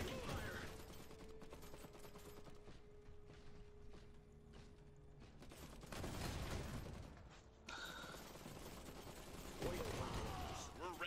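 Gunfire in the real-time strategy game Iron Harvest, bursts of rattling shots and mechanical clanks recurring through a faint, busy battle soundscape, with brief game voices over it.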